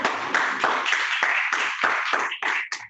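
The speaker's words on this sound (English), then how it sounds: "Listen to all that applause." Audience applause at a comedy festival show, a run of close, loud hand claps in quick uneven bursts that fade away toward the end.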